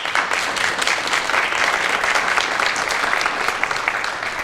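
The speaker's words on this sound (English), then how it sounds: "Can we give them a round of applause?" Attendees at a school governance council annual workshop meeting applaud with steady, even clapping from a roomful of people that stays sustained and fairly loud throughout.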